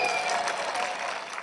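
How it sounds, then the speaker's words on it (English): An audience at the United States embassy in Havana bursts into loud, sustained applause, a dense wash of clapping throughout. "the audience broke out into a thunderous applause"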